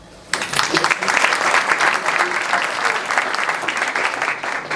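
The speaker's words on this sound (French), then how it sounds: "Ça s'applaudit." Audience applause in a theatre after a stage show, a dense steady clapping that starts abruptly and holds loud and full for several seconds.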